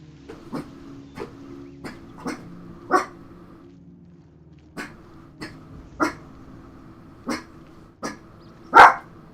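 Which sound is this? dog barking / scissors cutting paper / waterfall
dog barking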